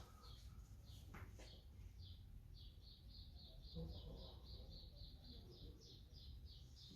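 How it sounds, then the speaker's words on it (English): Small birds chirp outdoors in a steady run of quick, high tweets that repeat through most of the stretch, faint and somewhat distant over a constant low background hum. "Bird's got a lot to talk about today."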